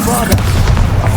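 Bombarda blasting spell going off in the Hogwarts Legacy video game: a short, loud booming burst with a sharp crack followed by deep rumbling, close and dense.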